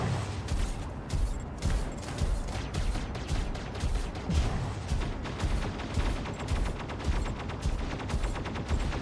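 Incoming weapons fire in the mech combat game Mech Arena: dense, continuous bursts of rapid shots and booming impacts rattle on without pause, loud and close, layered over mechanical clatter.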